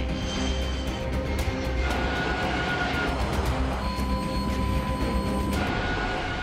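An overweight Airbus A380 airliner touches down on landing with only about half its brakes working, giving a loud, steady roar of engine and rushing wind that continues throughout.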